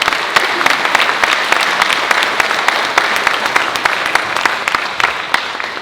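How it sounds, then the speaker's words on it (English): Loud, dense applause from an audience at a school district address, steady clapping filling the room throughout without a break. "I think that deserves a round of applause."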